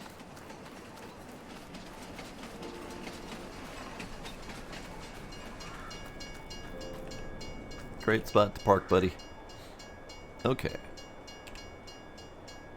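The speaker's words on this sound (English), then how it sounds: "Oh, hey, it looks like the train's here." A freight train rolls in during a Farming Simulator 22 session, its low rumble and rail clatter steady throughout, with a burst of loud clanks and squeals near the end as it comes to a stop. Someone talks briefly over it.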